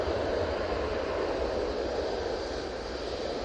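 A plane takes off at Manchester Airport, heard as a steady, broad jet-engine roar at a distance. It holds at an even level throughout with no talk.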